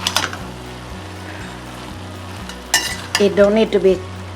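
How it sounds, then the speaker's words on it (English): Beef and vegetable egg roll filling stirred in a hot pan, with a soft sizzle under repeated scraping utensil strokes that grow louder and busier toward the end. "We just mix it into the vegetable here, and we're done."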